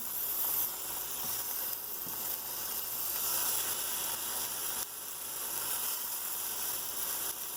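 Tomatoes sizzle and crackle in hot oil in a cast iron pan over a high flame, a steady, dense frying hiss that stays close and continuous throughout, with no voices.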